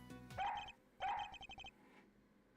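A dog barking in the video game Ace Attorney Investigations 3: two bursts of stylized, synthetic-sounding barks, each followed by a quick run of short staccato yips, loud and clear with no talking.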